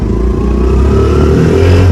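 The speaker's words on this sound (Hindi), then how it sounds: "चलो हम चलते हैं इस बाइक से।" A motorcycle engine rumbles loud and close as a ride begins on a market street, a steady low drone that swells slightly as the revs rise.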